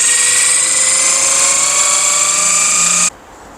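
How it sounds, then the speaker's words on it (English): A machine polisher works Turtle Wax 2-in-1 polish into a scratch on a Renault Zoe, whirring as a loud steady high-pitched drone that stops abruptly near the end. "Let's see if we can polish this one off with this Turtle Wax 2-in-1 polish."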